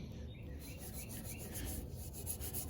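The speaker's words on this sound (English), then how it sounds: "when you rub it like this, go in a couple different directions, it looks like the red paint is rubbed off" A hand rubs primer and red paint off a bicycle frame, a steady close rasping scrape that keeps going without a break.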